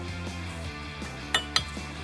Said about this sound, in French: nous allons pouvoir remettre nos plaquettes neuves